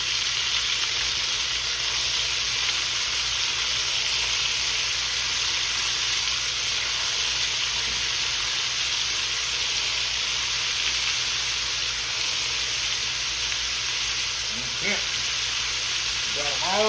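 Shrimp frying in hot oil heated a little above 350 degrees for Bang Bang Shrimp, giving a steady, loud, close sizzle with a constant hiss that runs the whole time. A few faint clinks of utensils come near the end.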